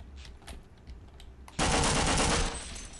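An AR-2 rifle fires a loud, dense automatic burst in Half-Life, lasting close to a second after a few quieter sounds and talk in the background.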